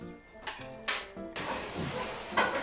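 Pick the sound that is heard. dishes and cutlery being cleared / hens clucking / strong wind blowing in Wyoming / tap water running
dishes and cutlery being cleared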